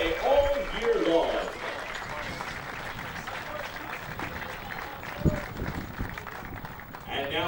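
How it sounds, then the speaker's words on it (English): A crowd at a college softball championship applauds the James Madison team, moderate scattered clapping over a voice on a public address system, with a brief thump midway. "Let's give the Duke a round of applause for their outstanding play all year long."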